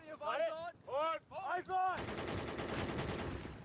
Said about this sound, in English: They're firing on the German machine gun now.